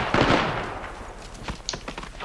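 Gunfire in the Apex Legends video game comes as a quick burst of shots near the start, followed by a few scattered sharper cracks over a noisy game background.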